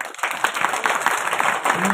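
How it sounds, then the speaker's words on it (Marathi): A kirtan audience bursts into dense, close clapping that keeps going for the whole stretch, with a voice mixed in over the applause. "आनंद एकदा या सगळ्यांसाठी टाळ्या."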